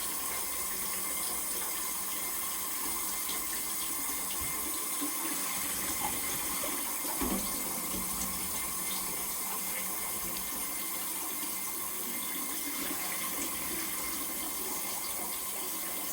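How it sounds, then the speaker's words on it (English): Ice-cold kitchen tap water runs in a steady, even stream over boiled eggs in a pot, a continuous soft splashing rush with no talk. "And I let the water run on the eggs."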